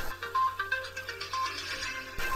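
A phone ringtone for an incoming call plays as a melodic electronic tune of bright repeating notes over a steady low hum, fairly loud and close, with no speech.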